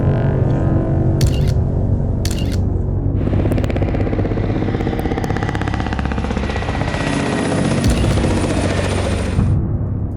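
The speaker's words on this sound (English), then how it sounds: "the infamous black helicopters appeared," Black helicopters pass close overhead, a loud, continuous rotor chop that thickens and rumbles throughout, broken by a few sharp clicking bursts early on.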